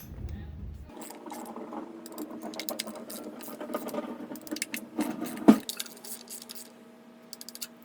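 Torque wrench tightening valve cover bolts on a Mini Cooper during a valve cover gasket replacement, giving close mechanical ratcheting and clicking with small metallic taps and a sharper click near the end.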